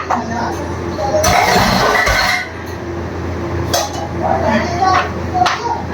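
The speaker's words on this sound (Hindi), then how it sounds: "तो मैं इनको सिंक में रख के आती हूँ।" Steel dishes and utensils are set down into a kitchen sink with loud clanks, clinks and scraping clatter in several bunched bursts, someone speaking over them.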